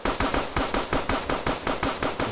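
Rapid SCAR assault rifle fire in Fortnite, about a dozen sharp, evenly spaced loud shots in quick succession with no pauses.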